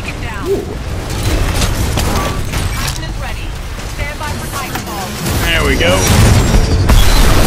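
Explosions and booms from the Titanfall 2 shooter game, loud and continuous with crackling blasts and mechanical clatter, swelling toward the end, mixed with overlapping player voices.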